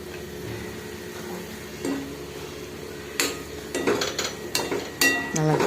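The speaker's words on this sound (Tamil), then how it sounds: "நல்லா கிண்டி விட்டுருங்க." Peas gravy being stirred in a pan, a utensil scraping and clinking against the metal in irregular bursts that grow busier toward the end, with a faint steady kitchen hum underneath and no talking.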